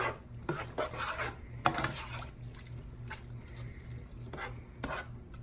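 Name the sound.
stirring chopped green chilies into beef burrito skillet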